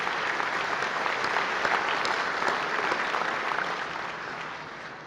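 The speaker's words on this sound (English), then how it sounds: "Please give a round of applause for our Platinum and Gold sponsors." Sustained audience applause at a benefit dinner, dense steady clapping from a large seated crowd that holds for several seconds and then begins to taper off.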